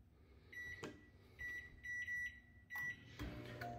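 A microwave oven softening string beans, sounding a series of high electronic beeps in short bursts, with door clunks and a low running hum, close and fairly quiet.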